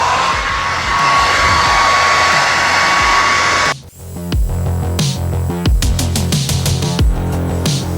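A heat gun blows hot air over vinyl wrap on a chrome door panel of a 2011 Lexus IS250. It gives a loud steady whooshing roar for almost four seconds and then stops, followed by clattering handling noises.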